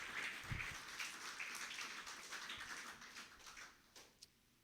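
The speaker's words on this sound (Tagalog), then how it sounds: "dagdagan natin ang ating palakpak sa ating pong Panginoon" A church congregation applauds in a steady, moderately distant wash of clapping that gradually thins out toward the end.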